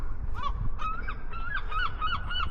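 Repeated honking, squawking bird calls outdoors at a historic battlefield site, several harsh cries in an uneven series over a low rumble of wind, fairly close and loud, with no talk.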